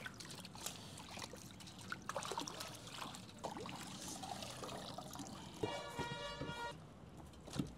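Running water trickles and splashes steadily while a large fish of about 3.5–4 kg is washed, against a busy background, with scattered clatter and a brief higher-pitched streak toward the end.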